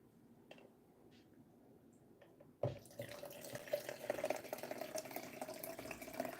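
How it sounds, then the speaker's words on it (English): Water poured into a cup at a desk, a faint quiet room giving way at about 2.6 seconds to a steady splashing, trickling pour that continues to the end. "I'm pouring water into my cup."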